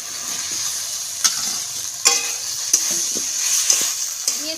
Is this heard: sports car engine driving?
no